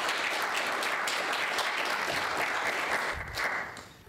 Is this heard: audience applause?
yes